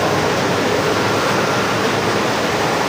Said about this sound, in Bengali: এই যে ওই পাশে একটা ফিট পাম্প ওটা চলতেছে